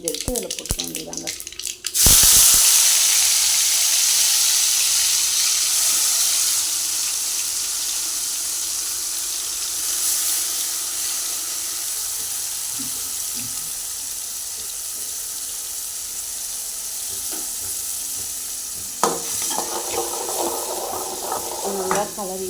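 Spice paste drops into hot oil with popped mustard seeds in a pan for potato brinjal kurma, setting off a loud, steady sizzle that slowly eases, with faint stirring scrapes near the end.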